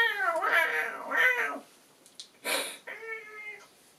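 A cat meows several times up close, drawn-out and whiny, with short pauses and a faint hiss between calls, from the film Pet Sematary.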